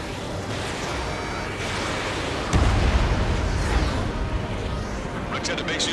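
A rectenna base unit is blown up in the Ace Combat 7 flight combat game, a loud booming blast at about two and a half seconds rising over a dense roar of engines, music and battle noise that continues afterward.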